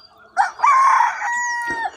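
A rooster on a farm raising native country chickens lets out one loud, close crow, long and drawn out, with a short cluck before it and quiet around it.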